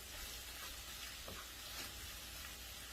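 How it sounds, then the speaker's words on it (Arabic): Meat and vegetables sauté in a hot pan with a continuous, close sizzle and hiss, marked by a few faint scraping stirs and no voices. "هنا هعصج اللحمه مع الخضار، هسيبه ايه يتعصب كويس جدا"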